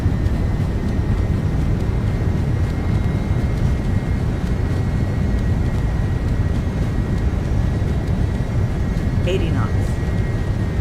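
An MD-11F freighter jet in X-Plane 12 roars steadily under reverse thrust on its landing rollout, a loud continuous broadband rush lasting throughout, with a brief voice callout near the end.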